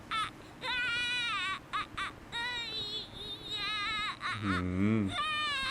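Baby Kakarot wails loudly in the Dragon Ball Z: Kakarot game, a string of high, repeated infant cries with brief pauses and a deeper voice briefly joining near the end.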